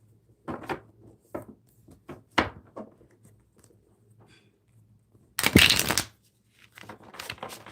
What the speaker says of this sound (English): Let's shuffle these cards up here.